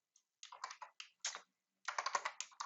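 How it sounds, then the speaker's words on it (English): Clattering bursts of typing on a computer keyboard while entering spreadsheet data, quick irregular runs of key clicks separated by short pauses, close and fairly quiet. "Keep typing."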